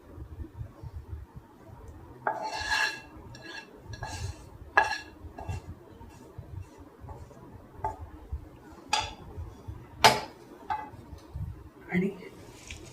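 Paneer and potato cutlet mixture being stirred in a bowl, with soft irregular clinks and scrapes of a spoon against the dish close by, sounding alone with no talk over it.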